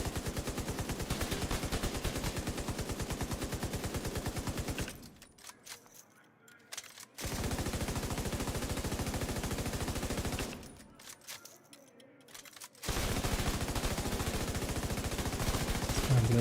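Rapid automatic gunfire in a PvE video game rattles continuously in long bursts, broken by two short lulls of quieter clicks and handling noise before firing resumes, with no talk over it.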